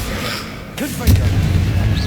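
The Confringo explosive spell goes off in Hogwarts Legacy as a short swoosh followed by a deep booming blast that rumbles on for about a second. It is loud and close, with game sounds around it.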